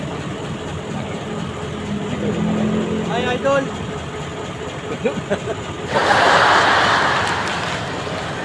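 A car engine runs steadily at a stationary inspection of a vehicle with a leak, with a louder, brighter burst of engine noise in the last few seconds and someone talking over it throughout.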